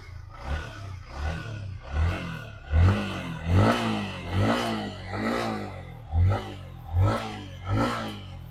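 A 2021 Yamaha MT-15 motorcycle is revved hard several times in a row, each rev a loud, rising blip that drops back between bursts, heard close up with no talking.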